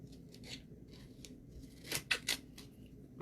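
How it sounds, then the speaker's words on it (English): Scissors snipping tape with a piece of wire sticking out of it, while making DIY corn stalks: a few soft close cuts followed by louder crisp snips near the end, no voices. "Take your scissors."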